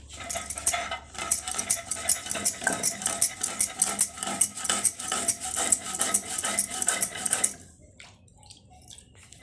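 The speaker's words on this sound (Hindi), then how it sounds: "देखिए मेरे मम्मी मसाले पीस रही है" Spices are ground by hand, giving rapid rhythmic scraping and knocking strokes up close for several seconds before the grinding stops and only faint sounds remain.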